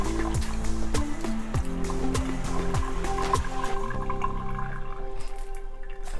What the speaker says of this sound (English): You just want to make sure that you squeeze all that water out.